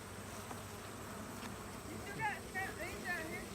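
Honey bees buzzing around a hive, a faint, steady droning hum throughout under a quiet outdoor background, with a few short higher chirping sounds near the end.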